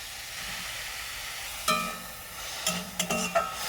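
Grated coconut and jaggery stir in a hot pan for vapa puli pitha filling, a soft steady sizzle punctuated by several sharp scraping and clinking strokes of the spoon against the pan.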